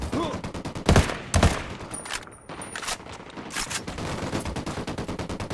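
Bursts of gunfire ring out in a tactical shooter game, Tom Clancy's Ghost Recon Wildlands, with several sharp loud shots early on and then quieter scattered firing continuing through the stretch.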